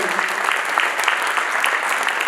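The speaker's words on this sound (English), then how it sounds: "please, round of applause" Dense, steady applause from an audience at a community development awards presentation, continuous and fairly loud throughout with no break.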